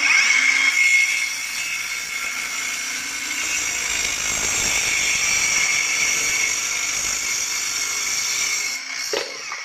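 A Mellif cordless mini circular saw cuts through wood with a steady, high whining drone held for several seconds. It sounds close and loud with no talk, then winds down at the end.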